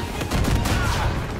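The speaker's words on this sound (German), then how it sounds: "der schießt sogar mit Granaten und alles" Dense gunfire and explosive bursts from an enemy firing grenades in Uncharted, part of the Nathan Drake Collection, sounding as a steady, loud barrage with overlapping shots and no talking.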